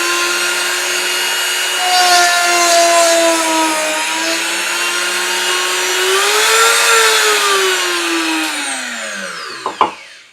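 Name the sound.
Dremel rotary tool in workstation drilling holes at high speed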